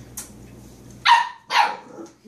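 Puppies barking in two loud, close yaps after a short high yip, with faint low background noise between them.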